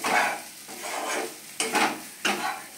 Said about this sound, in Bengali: আমি কিন্তু এটাকে কন্টিনিউয়াসলি নেড়ে যাচ্ছি যাতে এটা তাড়াতাড়ি শক্ত হয়ে যায়